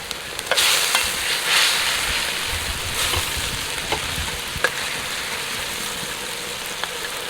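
Pieces of fish (pla khao) stir-fried in a hot pan after sugar has gone in, giving a steady broad sizzle with scattered clinks and scrapes of stirring, close up and with no talking.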